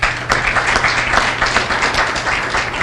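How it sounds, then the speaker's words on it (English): Audience applause at an event on the opening of a Ferris wheel at National Harbor, a steady wash of clapping from a crowd lasting a few seconds without speech. "So if we can give him a round of applause."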